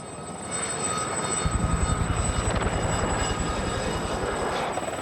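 A steady rotor thump from a helicopter, rhythmic and fairly close, over a constant mechanical whine.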